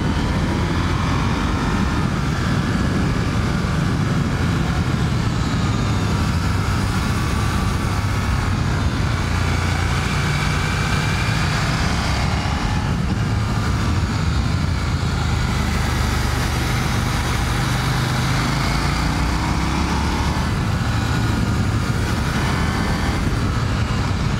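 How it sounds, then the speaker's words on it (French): A KTM 890 Duke R motorcycle engine runs steadily with a dense, continuous roar and wind rush at speed, loud throughout; individual backfire pops are not clearly distinct. "Quand ta moto fait des petits retours, il n'y a rien de plus plaisant."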